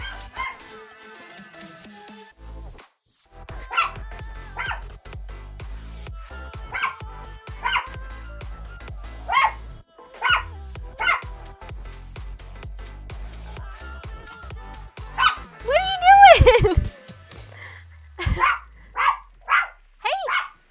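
A dog barks at a window indoors, a series of sharp, repeated barks at irregular intervals with a brief whimpering whine near the end, fairly close and loud.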